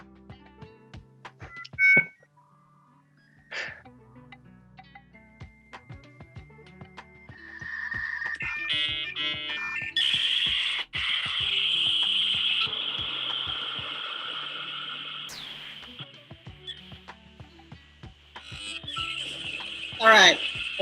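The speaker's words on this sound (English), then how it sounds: "So what was that? Dial up." Dial-up modem connection sound: scattered tones and beeps first, then a sustained harsh screeching hiss through the middle and a final burst of static tones. It plays alone at moderate loudness.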